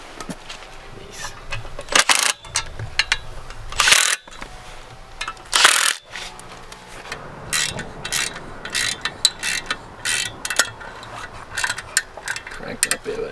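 Ratchet tightening engine mount bolts during an engine swap, bursts of rapid clicking strokes repeated in short runs with pauses between, close and fairly loud.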